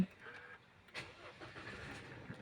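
A push-button start on an Isuzu four-door pickup truck: a short cranking burst, then the engine catches and settles into a low, steady idle heard close up, with no talking.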